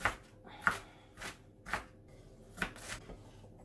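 A kitchen knife chopping radishes on a cutting board, with about six quiet, separate cuts in an irregular rhythm over a low room background.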